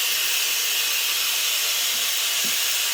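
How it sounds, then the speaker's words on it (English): Steam hisses steadily from a pressure cooker vent covered by a layered washcloth while stewing beef cheeks, a constant loud broadband rush with no talking. "you can probably see the steam escaping, but the washcloth catches most of any mess that might escape out of the vent."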